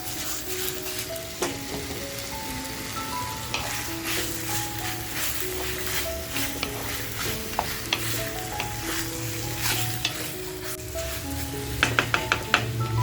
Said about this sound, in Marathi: आपल्याला चिकनसुद्धा ह्याच्यामध्ये छान असं फ्राय करून घ्यायचं आहे.